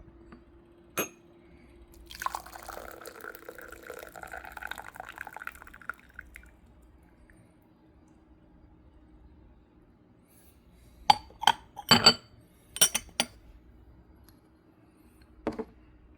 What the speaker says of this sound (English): we are going to give that a wash at water that's just below boiling